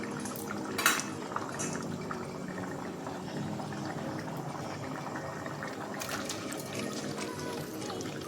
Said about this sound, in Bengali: এবার আমি এগুলোকে ঝোলের মধ্যে নেড়ে ডুবিয়ে দেওয়ার চেষ্টা করছি